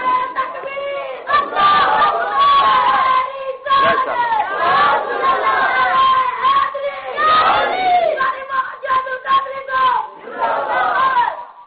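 A crowd at a religious gathering for Jashn-e-Milad chants slogans in loud, rhythmic bursts of massed voices. The chanting swells and breaks repeatedly throughout, close and dense, with no pauses into silence.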